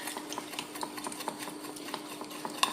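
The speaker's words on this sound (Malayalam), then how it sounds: "ഇത് ഒന്ന് ഇളക്കാവേ, നല്ലോണം ഒന്ന് ഇളക്കാം." Eggs whisked with turmeric and salt in a bowl, giving a steady run of light, close scraping and tapping strokes with a sharper clink near the end, with no voices.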